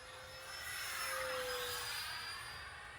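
An E-flite Habu STS 70mm electric ducted fan RC jet flies past, a steady whining roar with a high tonal whine that swells as it nears and fades slightly as it moves away, heard alone without talk.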